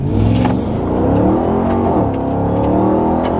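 Four-wheel-drive vehicle climbing off-road: a loud, close, continuous engine roar with gritty rumble and slight revving swells, heard from inside the cab without talking.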